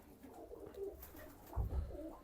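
Long face pigeons give soft, low cooing calls, two or three close, throaty coos against a quiet room background.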